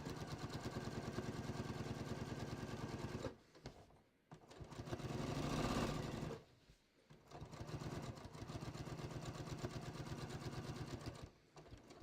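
Domestic sewing machine running fast and steady while understitching the seam allowances of a fabric pants front pocket, a close whirring, rapid needle chatter in long runs broken by two brief pauses, with no talking.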